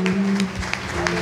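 Worship congregation clapping hands together in praise, a dense run of overlapping claps with a sustained sung or hummed tone underneath, fairly loud and close.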